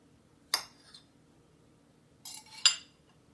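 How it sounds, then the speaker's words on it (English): Knife slicing a steamed seitan sausage on a board, giving two quiet, separate cutting strokes with soft clicks against the board, each followed by a brief scrape, in an otherwise quiet kitchen. "And I'll slice that for you."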